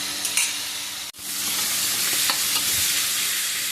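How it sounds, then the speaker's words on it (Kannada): Tomatoes frying in a pan for a Tulu-style mushroom curry give a loud, steady, close sizzle that breaks off for a moment and then resumes unbroken. "ಟೊಮೆಟೊ ಕೂಡ ಫ್ರೈ ಆಗ್ತಾ ಬಂತು"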